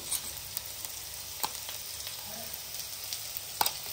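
Ground spice paste fries with onion in oil, a soft, even sizzle with faint scattered ticks and a couple of sharper clicks from stirring.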